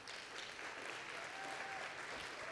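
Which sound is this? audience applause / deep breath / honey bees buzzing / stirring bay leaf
audience applause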